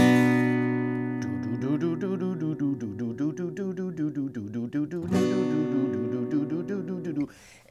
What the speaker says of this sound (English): you can do these false harmonics where you just lightly touch the string on the top string